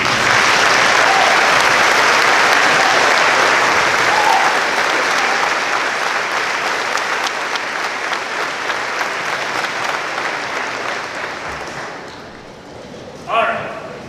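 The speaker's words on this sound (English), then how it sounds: "Can you please stand and give them the round of applause they deserve" Loud, sustained applause from a large crowd at a graduation commencement ceremony, a thick continuous roar of clapping that gradually fades near the end before a short burst of voices.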